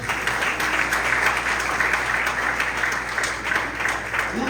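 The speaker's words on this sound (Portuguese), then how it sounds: "Pode aplaudir a terra" A church congregation claps steadily and loudly throughout, a dense, even wash of applause with faint voices mixed in.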